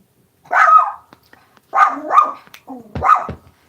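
A puppy barking at animals in a backyard, three loud close bursts of yappy barks spaced about a second apart, the last with a whiny edge, alone with no talk.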